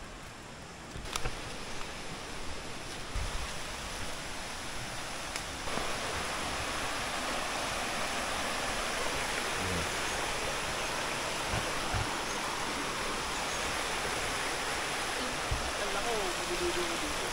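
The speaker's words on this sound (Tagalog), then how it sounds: "Tingnan natin yung falls. Parang may falls eh." Steady broadband rush of a waterfall beside a mountain bike trail near Lamesa Dam, continuous and fairly loud throughout, with a few faint knocks and bumps over the flowing water.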